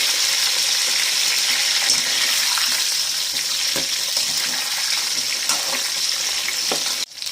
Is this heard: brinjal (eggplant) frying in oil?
yes